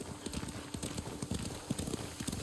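Horse hooves clip-clop in a steady, brisk rhythm in the video game Ghost of Tsushima, close and continuous, with a low game soundscape underneath.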